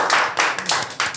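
Students in a maths class clap their hands, about four sharp, separate claps in quick succession, close by and loud.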